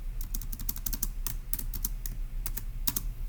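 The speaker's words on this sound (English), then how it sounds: "let's go ahead and type that up in our notes in section D" Someone types notes on a computer keyboard: quick irregular clicks and taps in short bursts, close and fairly clear over a low steady hum, with no one talking.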